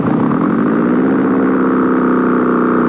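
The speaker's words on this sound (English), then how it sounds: "The gyrocopter is a very simple machine, consisting of a small engine, a propeller, and a large overhead rotary blade." A Bensen gyrocopter's small engine runs steadily and close by, a continuous droning hum with a constant pitch that holds for the full three seconds with no talking.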